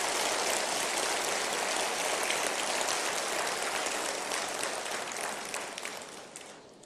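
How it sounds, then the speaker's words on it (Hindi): Large audience applause welcoming India's Vice President at a formal event in Jaipur, a dense, steady wash of many hands clapping that holds loud throughout and begins to thin toward the end, with no talking. "एक बार जोरदार तालियों से आप उनका स्वागत करें"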